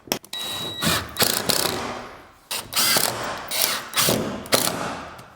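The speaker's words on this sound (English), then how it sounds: "To hold it in place, I'm just gonna screw it in" A screw being driven into a photo booth, heard as close, loud bursts of ratcheting in several separate runs with short pauses between them.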